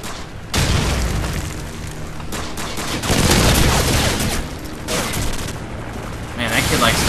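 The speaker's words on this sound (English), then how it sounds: "Grenade!" Explosions and gunfire in Call of Duty 4: Modern Warfare, loud booming blasts and rattling shots in a sustained barrage, with a grenade among the bursts and no clear talk.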